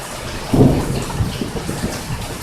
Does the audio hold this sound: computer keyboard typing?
no